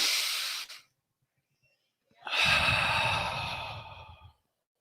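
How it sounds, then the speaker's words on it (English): A deep breath drawn in and pushed out, a short airy intake followed by a pause, then a long, loud, hissing exhale close to the microphone, with no talking. "that could come from breathing deeper,"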